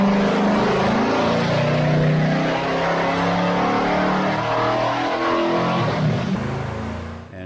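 A car engine revs hard and continuously on a dynamometer during a full-throttle pull, with the valve cover leaking too much oil. It stays loud and close throughout and tapers off at the end.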